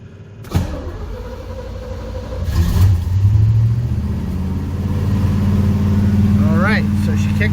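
A 1979 Pontiac Trans Am cranks with a sharp initial thump, catches and settles into a deep, rumbling idle, loud and close with a slight rise in revs.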